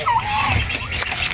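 Turkeys in a brooder pen gobble and call in short, rapid bursts, nearby and fairly loud, with a mix of overlapping bird sounds.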